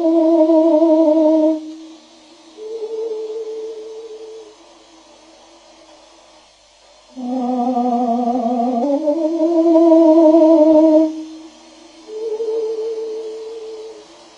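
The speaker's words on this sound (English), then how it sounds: "That is the sound of a bird, slowed down to a pace that the human ear mistakenly recognizes as its own." Slowed-down birdsong with a deep, vibrato-rich tone like an opera singer warming up, delivered as several sustained, sliding phrases separated by brief quiet gaps, loud and close.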